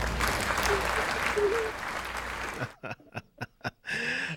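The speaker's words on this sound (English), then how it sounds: "That's JP, my engineer, throwing some claps in there." Applause sound effect dropped in by a radio engineer on a KCAA AM/FM talk broadcast, a dense wash of clapping for over two seconds, then a few sharp separate claps and a brief burst at the end.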